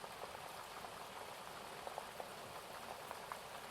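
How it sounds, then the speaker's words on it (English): Gentle river water flowing along the bank, a steady soft wash with faint trickles and light splashes, continuous and even, no voices. "the gentle flowing sound along the edge of that river, as the water interacts with the bank"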